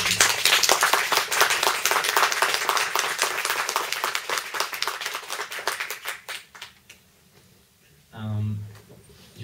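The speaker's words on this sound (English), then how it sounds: "So I would like a warm round of applause." An audience at the Arts House gives warm applause to welcome a filmmaker. Dense, steady clapping runs for several seconds, thins out and fades, and then a voice begins speaking.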